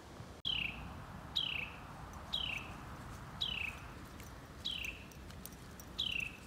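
A single bird outdoors gives a repeated high descending call, six evenly spaced notes about one second apart, clear and fairly near over a soft steady background hiss.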